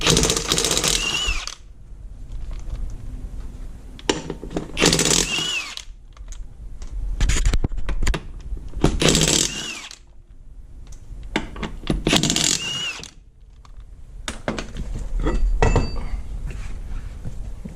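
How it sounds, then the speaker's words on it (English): Metal wrench work on the rear wheel of a 2006 Yamaha Kodiak 450 ATV with a bad axle: bursts of loud ratcheting and clanking alternate with quieter pauses, close up, no talking. "I'm going to take a 17mm and take the rear wheel off"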